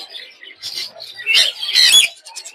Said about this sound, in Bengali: এগুলো হচ্ছে লরি